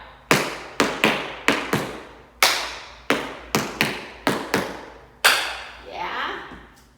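Tap dance shoes strike a hard floor in a beginner waltz clog routine, about a dozen crisp, sharp metallic taps in quick rhythmic groups, followed by a softer scuffing shuffle at the end.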